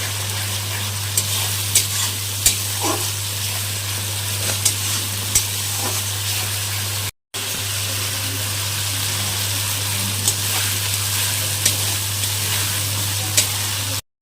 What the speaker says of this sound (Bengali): কিশমিশ দিয়েও কিন্তু ভালো মতো এখন নাড়াচাড়া করতে হবে মশলাটা ভালো মতো ভেজে নিতে হবে এখন